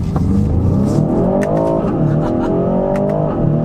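A 2025 Aston Martin DBX707 SUV accelerating hard in sport mode, heard from inside the cabin, revs climbing in a long surge, dipping at a gear change, then rising again.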